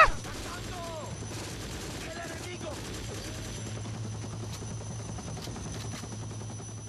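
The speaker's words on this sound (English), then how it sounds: "I hate random helicopter noises out of nowhere" Low, steady rotor thrum of a helicopter in the video game Conflict: Global Terror, running continuously in the background, with scattered sharp bursts like distant gunfire and faint voices early on.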